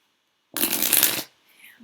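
A deck of playing cards riffle-shuffled close by, one dense continuous burst of rapid flapping lasting under a second, followed by faint rustling.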